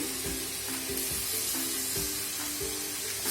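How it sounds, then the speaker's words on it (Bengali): Tomato hits a pan of frying spices for a Bengali dal bori curry and sizzles loudly and continuously, with repeated spatula strokes and stirring knocks at a fairly even rhythm. "এ পর্যায়ে আমি টমেটো দিয়ে দিচ্ছি।"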